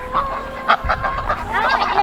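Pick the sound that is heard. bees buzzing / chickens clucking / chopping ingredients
chickens clucking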